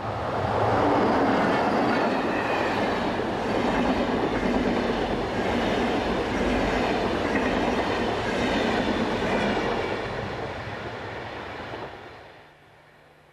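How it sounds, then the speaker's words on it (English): Swiss Class 460 electric locomotive hauling an intercity passenger train roars past close by, a loud broad rumble with wheel noise that holds steady, then fades away near the end. "Class 460s are also to be found on some of the intercity workings, as seen here, with 460014 providing the power."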